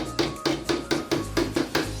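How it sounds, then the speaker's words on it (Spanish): A hammer drives nails into the wooden panels of a six-door closet under assembly, eight sharp, evenly spaced blows in quick succession, loud and close with no talking. "Se escucha el sonido del martillo."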